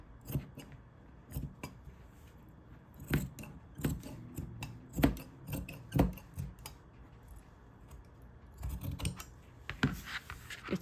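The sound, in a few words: scissors cutting minky fabric diagonally at the corner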